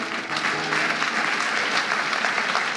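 A church congregation applauds at a bishop's urging, sustained full-room clapping that holds steady and loud from start to finish with no voices over it.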